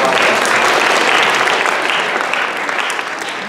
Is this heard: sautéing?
no